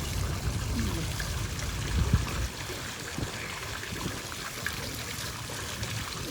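Lake water splashes and trickles into a boat ride's splash zone, a steady wash of running water with a brief louder burst of splashing partway through.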